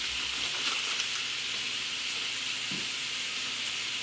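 Onions and other food sauteing in a pan for beef stroganoff, a steady close sizzling hiss running without a break, no voices.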